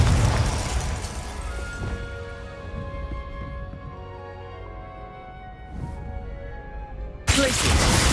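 Confringo fire spell fired in Hogwarts Legacy, a loud burst at the start that fades into a lingering magical ringing tone, then another sharp loud impact near the end; a voice speaks early on.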